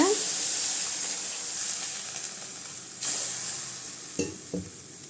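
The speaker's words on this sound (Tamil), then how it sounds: "கொஞ்சமாக தண்ணி சேர்த்துக்கலாங்க" A splash of water poured into a sizzling snake gourd stir-fry, a sudden hiss over steady frying, followed by a few knocks of the spoon against the pan, close by.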